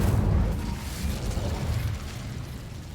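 Incendio fire spell cast in the video game Hogwarts Legacy, a heavy low burst at the start that settles into a rumbling, crackling roar and slowly fades over a few seconds.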